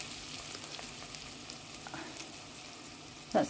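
Spring onions cook gently in a pan for a pasta bake, giving a soft, steady sizzle close by with light stirring scrapes and a brief louder knock at the end, no voices.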